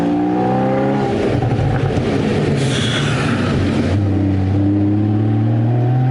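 Supercar on a road trip in Spain accelerating hard, the engine revving and climbing in pitch before easing off, then rising again as it pulls away, loud and close.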